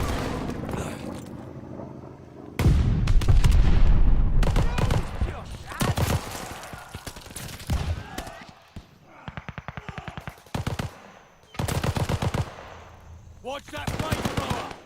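Call of Duty MW2 battle sounds: rapid bursts of automatic gunfire and heavy mortar thumps follow one another in choppy volleys, loud and close, with clipped game voice callouts mixed in.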